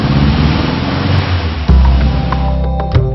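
The engine of a 1934 Rolls-Royce vintage car runs with a deep, loud idle rumble close by, with a couple of sharp knocks or revs near the end.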